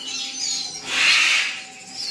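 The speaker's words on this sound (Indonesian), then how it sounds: "Terus ada kutilang udah mandiri juga tuh" Sooty-headed bulbul (kutilang) at a bird market, giving bright chirping calls that rise to a loud central burst, close and alone with no talk.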